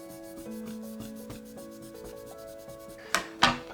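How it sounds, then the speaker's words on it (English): Soft, steady rubbing as the CPU and GPU of a Zotac RTX 3080 graphics card are re-polished, with faint repeated strokes and two sharper scraping bursts near the end, under a quiet background tone. "I'm gonna re-polish the CPU and the GPU"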